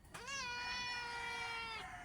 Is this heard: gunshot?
no